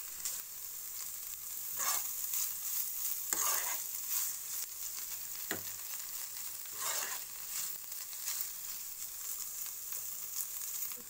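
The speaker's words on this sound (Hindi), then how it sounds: "तो पनीर को हम भून लेंगे पहले। हल्का गोल्डन होने तक हम भूनेंगे।" Paneer frying in a pan until lightly golden, with a soft steady sizzle and several slow scraping stirs of a spatula at intervals, close and fairly quiet with no speech.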